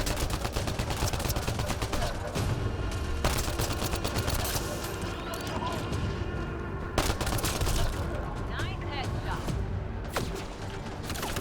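Dense enemy gunfire in the sci-fi shooter Mass Effect: Andromeda, with bursts of shots and impacts cracking continuously through a busy battle mix for the whole stretch, loud and close.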